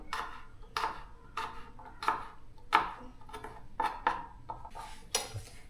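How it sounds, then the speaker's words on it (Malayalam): A knife finely chopping garlic on a board makes about a dozen crisp, close taps at a fairly steady pace, each a short bright knock. "നമുക്ക് വെളുത്തുള്ളി നൈസിന് ചോപ്പ് ചെയ്യാം"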